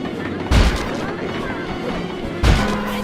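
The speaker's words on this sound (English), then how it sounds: "The X button drops bombs and the square button shoots forward." Two heavy booming bomb blasts from an RC helicopter in the video game Sly 2: Band of Thieves land about two seconds apart, each a sharp thud followed by a rumbling tail over steady background noise.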